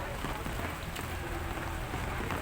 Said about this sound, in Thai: นี่ฝนตกมาอีกเอ้า